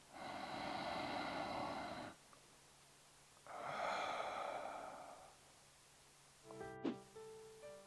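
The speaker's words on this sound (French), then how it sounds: "On inspire par le nez et on expire par la bouche." Slow guided breathing during a Ho'oponopono meditation: a long, airy inhale through the nose, a pause, then a second drawn-out breath, close and soft, followed by a faint shuffle.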